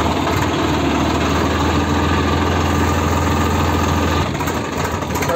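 A tractor in Punjab, used for puddling a paddy field, idles steadily on the road with a loud, deep, close engine rumble and vibrating knock that continues without pause and dips slightly near the end.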